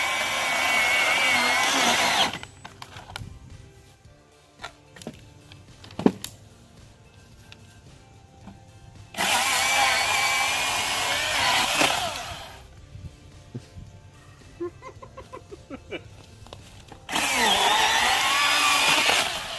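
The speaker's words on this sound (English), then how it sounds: "get a chainsaw and they love it. This sound." A Milwaukee chainsaw cuts through wood in loud, harsh bursts of high-revving buzz, separated by quieter idling stretches with small knocks and rattles, and the cutting comes three times across the span.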